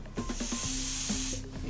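A loud, sustained hiss of spray lasts just over a second while bottle air rockets are being made, with a few short clicks at the start and a low hum underneath.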